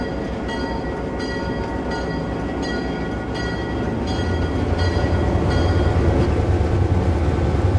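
An ex-U.S. Army GP7 diesel locomotive heard from inside the cab, a loud steady engine drone with rail rumble that swells louder partway through as the engine works harder.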